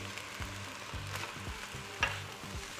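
Soy sauce sizzles loudly on a hot wok, a steady crackling hiss with rhythmic scraping of a utensil against the metal, no voices.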